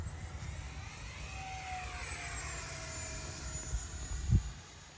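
Small E-Flite Viper 64mm electric ducted-fan RC jet without landing gear screaming past at full speed, a steady whine that sweeps down in pitch as it passes, with a brief low thump near the end.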